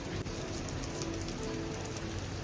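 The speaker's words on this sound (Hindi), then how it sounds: "बारिश हो रही है।" Steady rain patters outdoors on surfaces nearby, a dense even hiss of drops with faint scattered taps, continuous throughout without talk.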